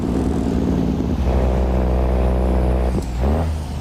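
Heavy truck with a 500 horsepower Cummins ISM engine in a driving game, its engine brake giving a steady deep, throbbing drone with a brief shift in pitch near the end, loud and close with no talking.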